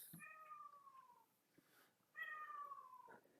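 A cat meows twice, two drawn-out descending cries separated by a short pause, fairly quiet against a hushed background.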